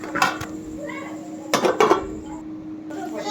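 A lid clatters onto a pork curry pot in a few bright metallic clinks and scrapes over a steady background hum.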